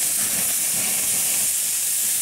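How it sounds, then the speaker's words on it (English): Hamburgers sizzling on an outdoor barbecue grill as grease is squeezed out, a steady loud hiss of hot fat spitting, continuous and close. "I'm going to squeeze a bit of grease out of these guys"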